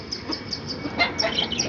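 Country chickens cluck softly on a rooftop terrace in Chennai, scattered short calls and chirps over a steady background hum, fairly faint throughout.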